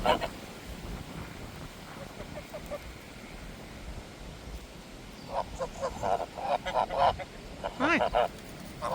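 Ducks and geese honk and quack at a caravan park, with a burst of calls in the second half that rises and falls close by, over light outdoor background and occasional voices.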